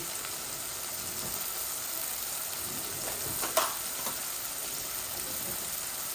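Ginger, garlic and turmeric fry in oil with a constant soft hiss and faint crackle, steady and close, with one brief louder spatter midway and no talking.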